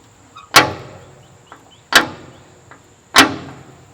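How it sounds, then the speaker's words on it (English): Three firm knocks on the door of an old stone tomb, evenly spaced about a second and a half apart, each a sharp close thud with a brief ringing decay, alone with no talk. "Knock 3 times, ask a question, and the spirits within will answer."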